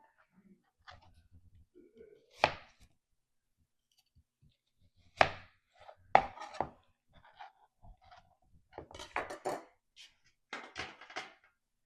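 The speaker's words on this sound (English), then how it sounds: "I just cut them in quarters" Knife chopping vegetables into quarters for smoked salsa, a few sharp separated cuts on a board with pauses between, some soft handling noises, close and moderately loud.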